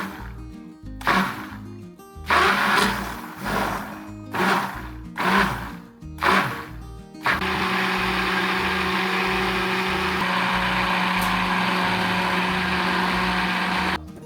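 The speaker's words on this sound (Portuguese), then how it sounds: "A gente acrescenta ali o nosso mixer, vai mexendo e acrescentando ali a lixívia." A hand mixer whirs steadily while blending lye into a solid rosemary shampoo soap mixture, first in several short bursts, then as one continuous loud drone.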